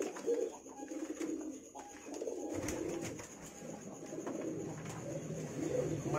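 Pigeons in a coop cooing repeatedly, with soft throaty coos rising and falling close by over a constant background hum and some clatter.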